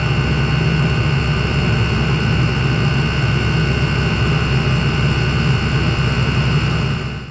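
A diesel heater burning oil mixed with cetane booster runs with a constant, loud combustion roar and fan drone, steady for several seconds before trailing off at the very end.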